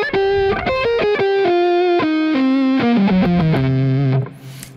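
A distorted electric guitar plays a descending line of sustained notes, loud and gritty, ending abruptly with a brief fade.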